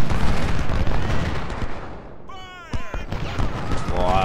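Gunfire volleys roll across a battle in the Civil War strategy game Ultimate General at Fredericksburg, dense crackling musket fire with heavy booms, briefly thinning before firing resumes, under someone speaking German.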